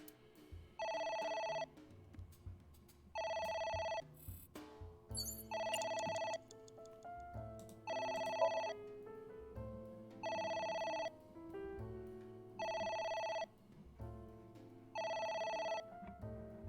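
Telephone bell in the video game AI: The Somnium Files rings in regular bursts about every two seconds, loud and repeated over a low droning background, with no talk.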